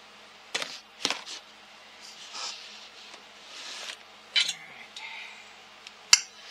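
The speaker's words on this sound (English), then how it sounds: "the trick is now I'm going to stab the fork" A fork stabs and scrapes through cut zucchini pieces in a bowl, giving several sharp, close clinks and scrapes at irregular intervals with quiet gaps between.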